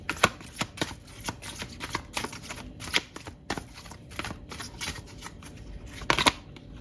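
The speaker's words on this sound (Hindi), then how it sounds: "अब हम कार्ड्स ले लेते हैं।" Tarot cards shuffled by hand in a rapid run of crisp riffles and slaps, close and fairly loud, with no talking.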